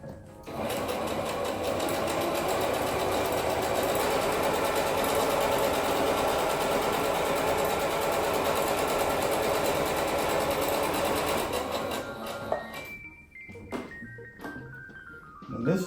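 Sewing machine stitching chair cushion fabric runs in one continuous, steady whirring burst for about twelve seconds, then stops abruptly, leaving brief faint handling noises.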